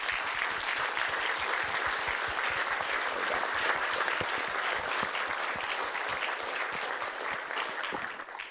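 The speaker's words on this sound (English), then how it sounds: "I'd like to give my team a round of applause for the excellent work they've done" A steady round of applause for a team after their project presentations, many hands clapping densely and evenly in a room for several seconds, tapering slightly at the end.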